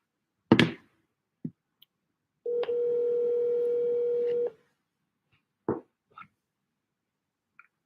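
A telephone call being placed for a commercial real estate cold call: a few sharp clicks, then a single steady tone lasting about two seconds, followed by scattered handset clicks and taps, heard close with no talking.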